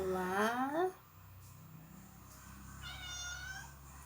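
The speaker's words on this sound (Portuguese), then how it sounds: "Um miadinho bem baixinho." A house cat gives one short, soft meow at the start. A person's voice follows faintly afterward.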